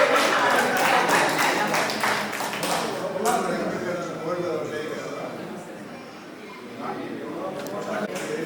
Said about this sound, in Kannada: ಅವರಿಗೆ ಚಪ್ಪಾಳೆ ಮುಖಾಂತರ ಸ್ವಾಗತ ಪಡಿಸೋಣ.